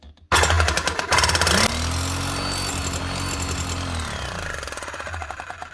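An old power tool fitted with a chisel starts with a jolt and hammers rapidly and loudly, then settles into a steady, buzzing rattle with a droning motor hum, running continuously until it cuts out near the end.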